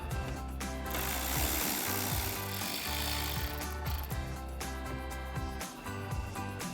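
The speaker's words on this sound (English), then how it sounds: "we'll grab our 7mm socket on our ratchet and go ahead and pull that out" A ratchet with a 7mm socket backs out a screw on the upper grille of a 2019-2021 GMC Sierra 1500 Denali, making a rapid, steady run of close mechanical clicking.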